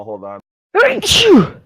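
During a casual tabletop Dungeons & Dragons session, someone speaks a couple of words, then after a short pause lets out one loud, close sneeze with a sharp intake and forceful burst.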